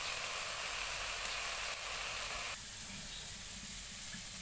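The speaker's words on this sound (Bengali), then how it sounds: "এ ফাঁকে আমরা আলু ভাজি করে নিচ্ছি।" Potatoes with salt and turmeric frying for aloo bhaji, a constant close sizzle and hiss of oil in the pan that drops slightly in intensity partway through, with no talking.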